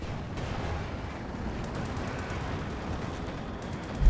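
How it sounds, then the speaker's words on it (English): Rocket strike explosions tear through enemy forces in Company of Heroes 2, a steady rumbling barrage of low booms and crackle lasting throughout, with a louder burst at the very end. "massive rocket strike ripping through Ohmygod's forces"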